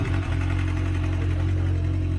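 A superbike engine idles to warm up before a group road trip, a steady low mechanical thrum with fast, even pulsing, close and loud with no speech over it.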